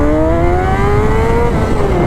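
A Honda CBR 600RR motorcycle engine revs loudly up close, its tone climbing smoothly and holding at high RPM in one continuous, strong run.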